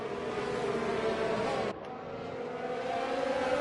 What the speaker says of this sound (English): Four cars heading into one corner